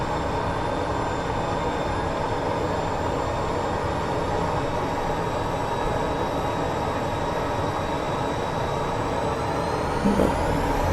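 An aircraft engine in a flight simulator drones steadily and loud, its tone rising slowly as the throttle opens, with rumbling wind-like noise underneath.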